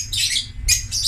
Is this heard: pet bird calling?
yes